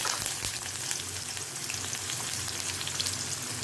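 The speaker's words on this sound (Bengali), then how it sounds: "তেল গরম হয়ে গিয়েছে, তাই এখন আমি এর মধ্যে ছেড়ে দিচ্ছি এই আলুগুলোকে।" Diced potatoes fry in hot mustard oil in a pan, giving a steady, close crackling sizzle with faint stirring and no talk.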